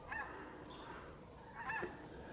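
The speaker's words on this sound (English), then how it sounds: "look at these snow geese coming in" Snow geese honk in two bursts of overlapping calls, a flock in the air at moderate distance against steady outdoor noise.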